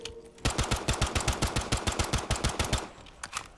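A Desert Eagle pistol fires in Black Ops 3 Zombies: a rapid, steady string of about a dozen sharp, punchy shots at close range, followed by a couple of scattered trailing pops.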